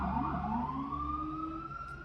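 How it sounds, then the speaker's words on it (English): Emergency vehicle sirens wail outdoors, a rising and falling electronic tone sweeping upward and sustained over steady traffic rumble, moderately distant and fairly loud, with no talking. "oh my God, the sirens. That's crazy."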